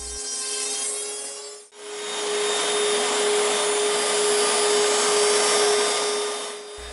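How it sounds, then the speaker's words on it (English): A power tool rabbets the top and bottom wooden boards of a clock case with a loud, steady high-pitched whine and rushing roar. The sound dips briefly once, then carries on close and continuous, with no voices. "Rabbeting out the top and the bottom was a little bit more tricky"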